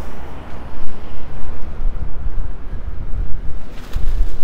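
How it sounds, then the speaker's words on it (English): Strong gusty wind outdoors in downtown Regina in April, buffeting the microphone with loud, rumbling low roars that surge and ebb continuously. "It's very windy"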